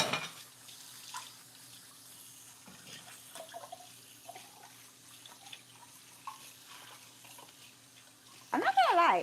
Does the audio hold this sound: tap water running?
yes